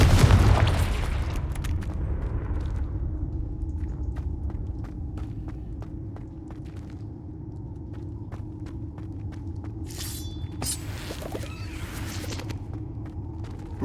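A Confringo fire spell exploding in Hogwarts Legacy, a loud booming burst at the start that decays into a low rumble, followed by light footsteps and scattered small game effects.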